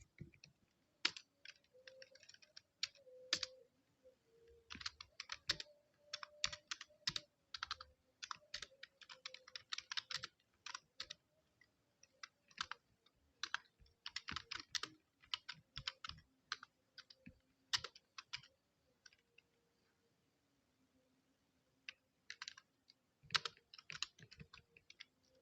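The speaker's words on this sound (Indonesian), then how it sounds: "setelah mengetikkan kode seperti ini" Quiet, steady clatter of fingers typing HTML code on a computer keyboard, arriving in irregular bursts with short pauses and a faint hum behind it.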